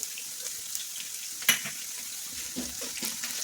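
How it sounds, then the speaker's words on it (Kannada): Onions and curry leaves sizzle in a hot pan for lemon rice, a steady close frying hiss with a brief stirring clatter partway through. "ಈರುಳ್ಳಿ ಮಾಗಿದ್ಮೇಲೆ ಕರಿಬೇವು ಸೊಪ್ಪು ಸೇರಿಸೋಣ"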